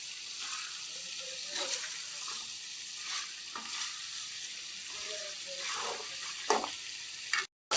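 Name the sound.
pork frying and being stirred in oil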